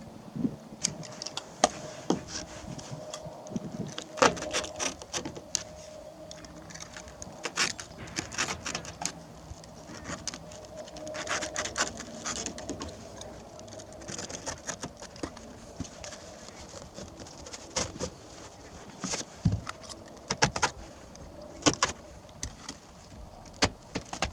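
A razor blade cuts a hole through carpet on a homemade pontoon boat deck, making irregular scratchy rasps and small clicks in uneven bursts, fairly close and moderately quiet, with no talking.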